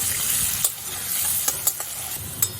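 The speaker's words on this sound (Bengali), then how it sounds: "অল্প লবণ আর 1 পিঞ্চ হলুদ দিয়ে আমি আলুটা খুব ভালো করে ভেজে নেব" Diced potatoes frying in oil with salt and turmeric, a close steady sizzle punctuated by several quick scraping knocks of a spatula.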